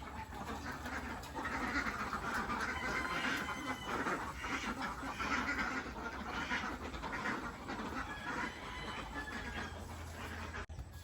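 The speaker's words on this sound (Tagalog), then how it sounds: "Ang mga itik." Ducks on a farm quack in a busy, continuous chatter at moderate distance, with other outdoor farm noise underneath.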